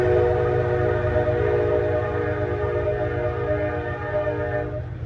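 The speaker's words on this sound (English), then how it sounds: "Really? Stupid train." A train horn sounds loudly and continuously over the rumble of a passing train, steady harmonic blasts holding for about five seconds before fading slightly at the end, with no talking.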